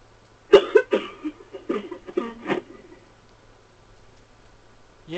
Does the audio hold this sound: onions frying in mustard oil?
no